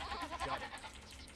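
Sheep in the video game Age of Empires give short bleats, a quick pair of nasal wavering calls at modest volume in game audio, with no talk over them.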